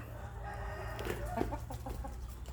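Burmese chickens in a garden pen cluck and crow faintly, short scattered calls over a low steady background hum.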